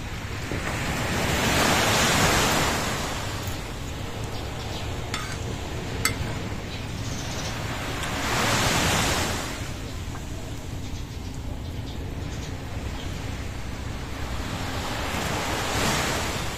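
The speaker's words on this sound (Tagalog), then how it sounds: "Gusto ko yung ano ng tubig, yung hampas, no?" Ocean waves break on a beach in Ilocos Norte with a steady roar, surging in broad swells every few seconds under a constant wash of wind noise. No one speaks.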